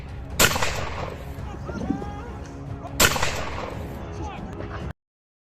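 Two sharp hunting rifle shots ring out on a hillside during a wild boar hunt, a few seconds apart, each a loud crack followed by a rolling echo over outdoor ambience.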